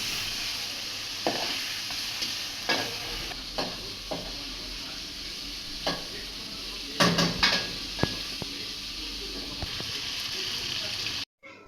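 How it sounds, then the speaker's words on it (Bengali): Fish pieces with chopped onion and turmeric fry lightly in hot oil for a Bengali pumpkin-greens dish, giving a steady close sizzle broken by several sharp stirring and scraping knocks against the pan. "মাছটা দিয়ে দিছে সাথে পেঁয়াজ কুচি মাছগুলো হালকা করে বেজে নিবে"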